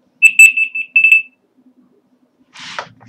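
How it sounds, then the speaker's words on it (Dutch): Phone alarm going off with a short run of bright, evenly spaced electronic beeps in two bursts, then silence and a brief rustle. "Sorry, dat is mijn alarm."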